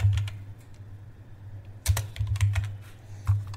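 Quick, uneven keystrokes clatter on a computer keyboard, close and fairly crisp, in a short burst of typing with small pauses over a steady low hum.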